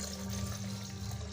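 Water pouring steadily into a blender jar with mango cubes and sugar while making fresh mango juice, a continuous close splashing gush with no talk.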